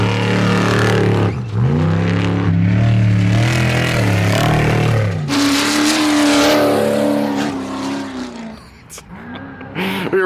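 Off-road race vehicles in the Baja 1000 roar past a few feet away, engines revving and shifting with loud rising and falling drones over sand, as people talk close by.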